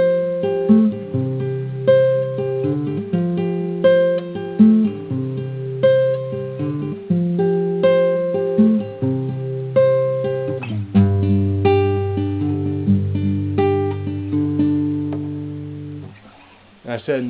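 Acoustic guitar plays the verse of a song, clearly picked notes and chord tones ringing in a steady, repeating pattern, then a lower, fuller section near the end, with no talk.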